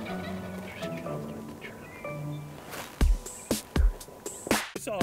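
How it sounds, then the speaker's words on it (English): Wild turkeys are outdoors in South Texas brush country, with toms gobbling in a scatter of rattling, harmonic calls at a distance, followed by several louder, closer bursts near the end. "Seeing all these turkeys and hearing the toms sure got me fired up for spring turkey season."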